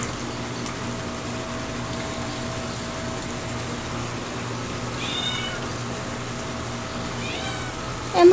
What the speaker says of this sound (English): bad little kitty.